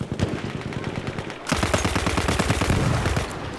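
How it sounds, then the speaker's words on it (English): Rapid automatic gunfire in a Battlefield 1 desert match rattles on steadily, close and loud, rising into denser bursts partway through. "Someone may be shooting at me."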